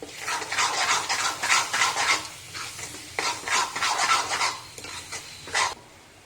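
Homemade garam masala is stirred and roasted in a pan over a slow flame, giving a steady run of scraping, rustling stirs with a faint sizzle, close and continuous, with no talking.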